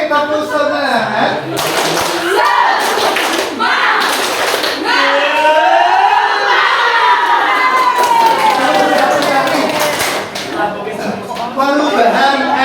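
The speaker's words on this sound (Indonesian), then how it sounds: "Oke, tepuk semangat." A classroom of children performs a rhythmic spirit clap during a peer-teaching workshop lesson, with bursts of clapping mixed with shouted chanting and cheering voices throughout.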